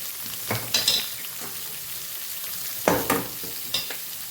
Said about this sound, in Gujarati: સરસ આપણે સંભારાને સાતડી લેવાનો છે।